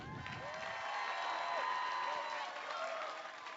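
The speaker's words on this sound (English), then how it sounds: "bride and groom, let's hear applause." A crowd applauds at a llama costume contest, dense outdoor clapping that swells slightly mid-way and then eases, with scattered voices and a faint whistle-like tone in the mix.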